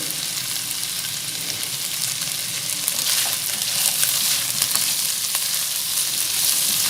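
Mutton sizzles and fries steadily in a pan with ginger, garlic and cumin, making a continuous bright crackling hiss at close range that grows slightly busier partway through, with no talking.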